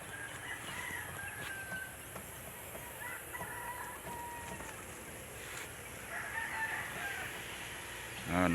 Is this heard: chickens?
yes